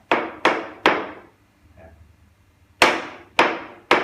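A wooden stick raps on newly laid floor tiles to test whether the tile adhesive is bonded, giving six sharp, close knocks: three quick ones, a quiet pause, then three more.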